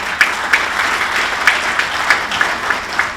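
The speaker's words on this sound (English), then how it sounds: "give Altec a big round of applause" A room at a sports hall of fame induction ceremony applauds a group from Altec Industries with a steady wash of clapping. Louder individual claps stand out at a regular pace through the few seconds.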